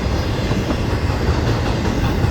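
A Florida East Coast Railway freight train rolls past close by in Jacksonville, a steady loud rumble of railcars with rhythmic clickety-clack from the wheels, no voices.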